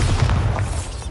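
The Bombarda explosion spell in a Harry Potter video game goes off as a loud, deep, rumbling boom that fills the whole brief moment, close and heavy, with no voice over it.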